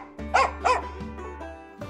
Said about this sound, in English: And the dog, well, she said, "Woof!"